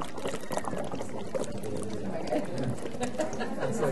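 Someone blows through a straw into a container of water at a depth of 10 centimeters, making a steady bubbling and gurgling that continues for several seconds, close and fairly loud, with faint voices in the room.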